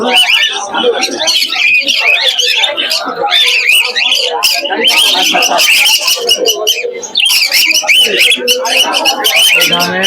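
Birds and pigeons crowd a busy Krishnanagar pigeon market, dense overlapping chirps, tweets and coos filling the air nonstop, loud and close, with a murmur of human voices underneath.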